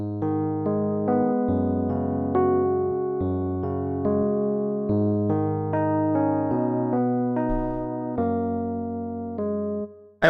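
A Rhodes electric piano from a software plugin plays a steady flowing passage of mellow bell-like chords and notes, continuous and close for about ten seconds with no voices.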